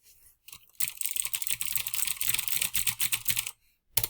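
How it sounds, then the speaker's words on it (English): Rapid keystrokes clatter on a computer keyboard while text is entered into a spreadsheet, a steady close burst of clicking lasting a few seconds before stopping, followed by a single final tap. "Because if I just start typing,"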